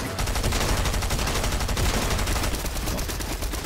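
Gunfire in the Fortnite video game, a dense loud burst of rapid shots that continues throughout without pause.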